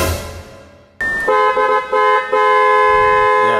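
Audi car horn sounding after a steering wheel airbag refit: a sudden loud steady blare that cuts in about a second in, briefly dips a few times, then holds on continuously near the mic.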